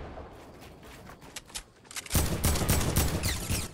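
Gunfire in a video game, starting as scattered faint shots and then breaking into a loud, dense burst of rapid fire near the end.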